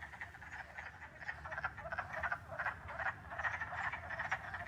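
A chorus of frogs croaks continuously in rapid pulsing trills, moderately distant, with no voices.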